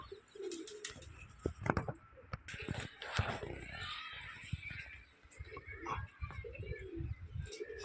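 Pigeons coo during a summer pigeon-flying session, soft repeated coos and scattered chirps mixing with outdoor clatter and bumps at close range, over low background noise.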